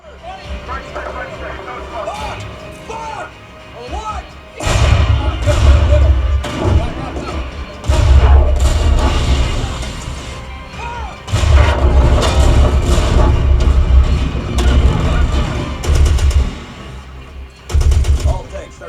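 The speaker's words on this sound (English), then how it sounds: "The first demo that we're going to check out is my go-to for tactical response and attack. It's Tyler Durden's Fury in Dolby Atmos" A war-film battle scene in Dolby Atmos, played through THX home theater subwoofers, pounds with heavy artillery booms, gunfire and deep thuds in loud repeated waves, with voices speaking between the blasts.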